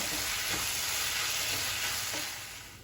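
Onion-tomato masala with watermelon seeds frying in a pan, a steady broadband sizzle with faint stirring scrapes, fairly quiet and continuous with no voices.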